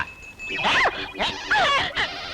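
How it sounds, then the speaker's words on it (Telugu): A dog lets out a few close whimpering yelps and whiny, rising-and-falling cries in short bursts. "అమ్మ కుక్క, నిన్న వచ్చావు, ఈవేళ వచ్చావు."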